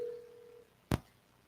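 A telephone signals an incoming call on a radio show with a short steady tone, followed by a sharp electronic click, faint and alone.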